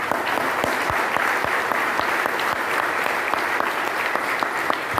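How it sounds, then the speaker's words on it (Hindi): Steady, dense audience applause at a success seminar in Varanasi, many hands clapping together loudly and continuously throughout with no break. "एक बार जोरदार तालियां"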